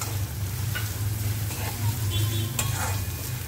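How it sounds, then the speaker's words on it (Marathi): Onion frying in a pan with salt added, sizzling steadily while a utensil scrapes and stirs through it in short strokes. "कांदा आपला गुलाबीचा रंगावर होऊन द्यायचा। मीठ घालते ह्याच्यामध्ये, म्हणजे कांदा पण पटकन होईल।"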